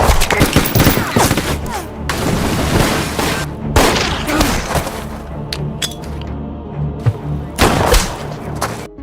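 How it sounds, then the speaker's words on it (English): Loud, dense gunshots crack and boom during a shootout, coming in repeated close bursts with no speech. "Then, he shot Roman and Pedro."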